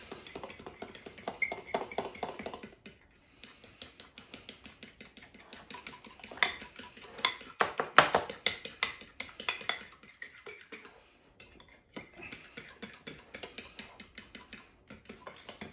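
Horseradish sauce being stirred in a bowl, quick irregular clinks and scrapes of a utensil against the dish, close and fairly quiet, with brief pauses between bursts of mixing.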